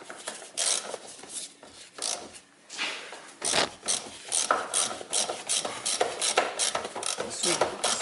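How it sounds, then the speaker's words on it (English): A tool works a bolt loose on a Toyota during rear spring replacement, giving a continuous rasping, rubbing scrape in uneven bursts with faint ratchet-like clicks, close and moderately loud throughout with no talking. "I insert my tool in there, and then I open that bolt"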